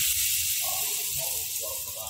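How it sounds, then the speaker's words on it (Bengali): Batter poured onto a hot, lightly oiled pan for a Bengali aloo paratha gives a steady, loud sizzling hiss that fills the whole short stretch, with a faint voice beneath it. "এবার ব্যাটারটা দিয়ে দিচ্ছি"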